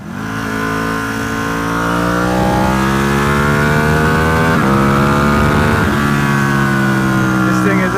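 A Ducati 1299 Panigale engine revs hard and steadily, close and loud, its pitch climbing through several rising sweeps with brief dips as gears change, sustained for the whole stretch.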